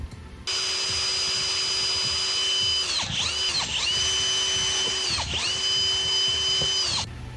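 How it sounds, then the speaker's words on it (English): A power drill bores a hole for a Mazda MX-3 rear diffuser, running loud and close in a whining burst that dips and restarts several times, with no speech. "I got to drill a new hole for that one too"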